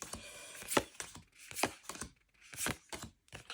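A new Cheeky Tarot deck of cards is shuffled by hand, giving soft, quiet riffling snaps in an uneven rhythm of about five short bursts, close by and with no talking.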